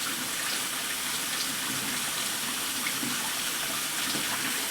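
Warm water runs steadily from a tap to fill a baby's bath, a continuous broadband gush that holds at an even, fairly close level throughout with no voices.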